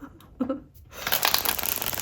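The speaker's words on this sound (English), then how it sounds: "Let's get one more shuffle" Tarot cards are shuffled during a pick-a-card reading: a dense, continuous riffling rush of card flutter that swells after a quiet start, close and fairly loud, with no talking.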